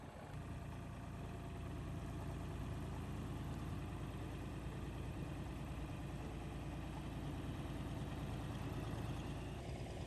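A heavy-duty truck engine idles steadily while pulling a boat trailer out from underneath a boat, a constant low, dense rumble that holds throughout with no voices.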